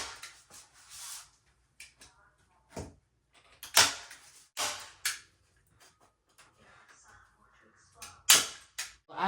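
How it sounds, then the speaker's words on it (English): A staple gun fires into tufting fabric held folded over, several sharp snapping clacks spaced irregularly, with quieter handling clatter between them. "so I'm gonna staple it."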